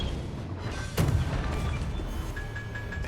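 A single heavy boom from a warship's artillery volley firing armour-piercing shells in a naval combat video game, one sharp loud blast with a brief rumbling tail over a steady background hum.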